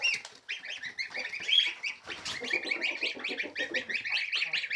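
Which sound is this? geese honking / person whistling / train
geese honking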